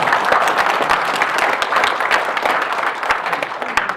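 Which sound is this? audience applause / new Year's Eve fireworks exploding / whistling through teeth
audience applause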